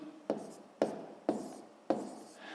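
Four crisp taps of a pen on paper while numbers are written by hand during a sixth-grade math division exercise, evenly spaced and quiet, recorded close.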